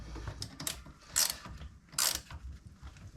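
A 14 mm (9/16) spanner tightens a fastener on a Honda Vision 50 scooter, giving a few quick metallic ratcheting clicks and two brighter scraping bursts, close and fairly quiet.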